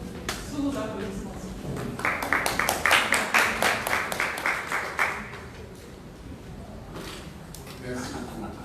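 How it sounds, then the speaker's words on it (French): An audience at an Internews event in the Democratic Republic of Congo applauds a speaker being introduced: a swelling burst of dense clapping that peaks for about three seconds, then thins out as faint murmuring continues. "Sous vos applaudissements"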